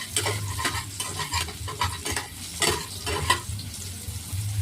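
Bele fish fry in hot oil in a pan, with a steady sizzle and a low hum underneath while a spatula stirs and scrapes at close range in repeated, uneven strokes.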